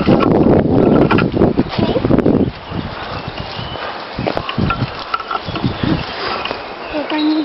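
Gusty wind buffets the microphone on a woodland walk, loud rumbling blasts at first and then softer, broken gusts mixed with footsteps and brief voices.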